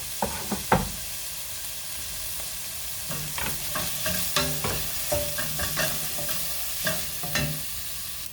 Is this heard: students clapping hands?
no